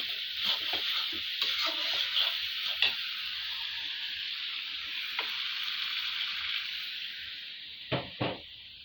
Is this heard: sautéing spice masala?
yes